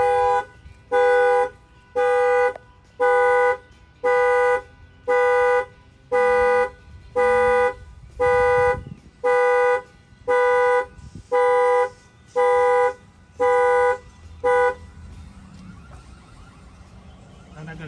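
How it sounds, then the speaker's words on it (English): The factory alarm of a 2022 Dodge Challenger blares in a steady pulsing pattern, about fourteen loud honks evenly spaced, then stops, leaving quieter background noise. "It's gonna set off the factory alarm now."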